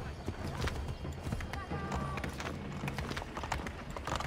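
Horse hooves clip-clop in a quick, uneven trot in the video game Assassin's Creed 3, with a brief whinny, under someone talking.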